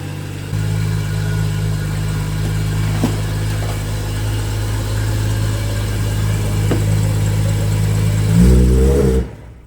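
A BMW M240i with its B58 inline-six engine runs at a steady low idle as it creeps into a garage, a close, constant drone with a brief rev near the end before the engine cuts off.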